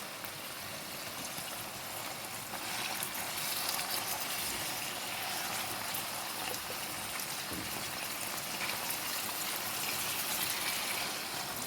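Meat pieces sizzle in a frying pan for meat piccata. A dense, continuous hiss of frying holds at an even level throughout, close and uninterrupted, with no voices.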